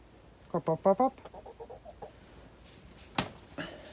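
A backyard chicken clucks up close in a quick run of short, rhythmic calls, followed by a few quieter clucks, with a person speaking nearby.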